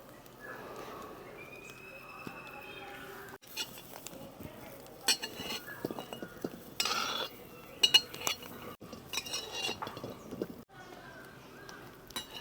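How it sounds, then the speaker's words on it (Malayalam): Lemons for a lemon pickle made without oil or vinegar being sautéed dry in a pan: a utensil clinks and scrapes against the metal in irregular, fairly quiet strokes, close by. "ഇതിൻ്റെ കറയെല്ലാം കളഞ്ഞ് നമ്മളിങ്ങനെ വഴറ്റിയെടുക്കുന്നുണ്ട്."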